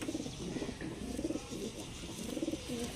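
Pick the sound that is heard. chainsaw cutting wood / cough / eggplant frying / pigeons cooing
pigeons cooing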